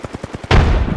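Gunfire in the Apex Legends video game: a quick run of about six light, evenly spaced shots, then a loud, dense burst of gunfire that continues to the end.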